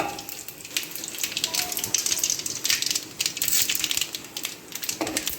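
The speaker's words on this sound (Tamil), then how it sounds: "வேர்க்கடலை எண்ணெய் ஆட் பண்ணிக்கிங்க கொஞ்சம் கடுகு போட்டு பொரிச்சிக்கிங்க" Mustard seeds crackling in hot peanut oil in a cooking pot, a dense, steady spitting and popping sizzle close by, with scattered sharper pops throughout.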